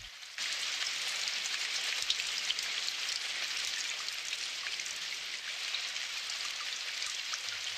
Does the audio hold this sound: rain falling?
yes